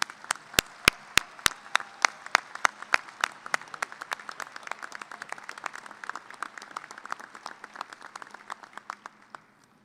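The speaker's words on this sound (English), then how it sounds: "And graduates, please acknowledge a round of applause." A graduation commencement audience applauds, starting with a few sharp loud individual claps and settling into steady, moderately distant applause that gradually thins out.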